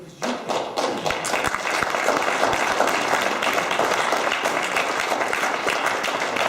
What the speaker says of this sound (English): a round of applause again because you can